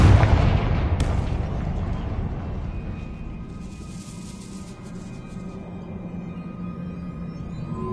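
A Confringo blasting spell explosion in the Hogwarts Legacy video game bursts loud and close at the start, then decays into a long rumbling tail with a sharp secondary crack and fading debris and ambience.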